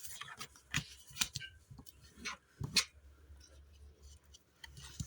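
Bone folder scoring fold lines into a cardboard advent calendar box, producing sharp, close scraping strokes and clicks at irregular intervals with quiet gaps between.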